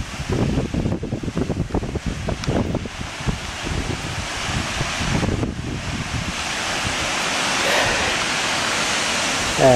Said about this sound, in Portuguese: E da cachoeira, escorrendo.